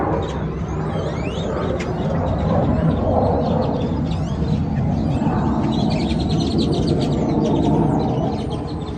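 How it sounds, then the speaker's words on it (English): Birds chirp and tweet outdoors in rapid, scattered bursts, some fairly close, over a continuous low rumble of distant aircraft or traffic, with no clear speech. "I also have the birds to contend with."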